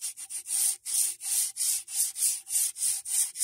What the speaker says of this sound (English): You can just use a little sanding block.